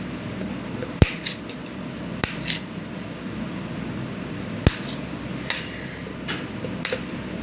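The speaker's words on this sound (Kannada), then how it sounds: "ಇವಾಗ ನಮ್ಮ ಡ್ಯಾಡಿ ಕಟ್ ಮಾಡ್ತಿದ್ದಾರೆ ಮಶ್ರೂಮ್ನ" A knife chops mushrooms into small pieces on a cutting board, giving a handful of sharp, separate knocks spread irregularly over a low, steady background hum.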